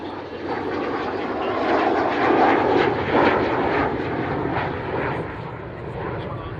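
An Avro Vulcan bomber roars past as a broad, sustained engine rush that swells and then fades slightly as it moves away, with someone talking over it.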